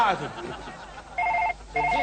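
A telephone rings in two short electronic trilling bursts, following a moment of speech at the start.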